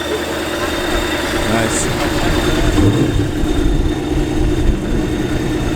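Supercharged Chrysler 300C with a ProCharger starting and idling, a steady engine rumble with a faint high whine, while people talk nearby.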